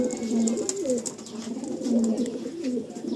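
A pair of Andhra pigeons in a loft coo steadily and close by, with repeated soft throaty rolling calls that overlap through the whole stretch.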